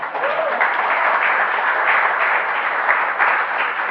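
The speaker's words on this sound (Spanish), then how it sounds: "Un aplauso para los artistas, por favor." Audience applause for young performers at a church gathering, a steady band-limited wash of clapping at fairly loud level, continuous for several seconds.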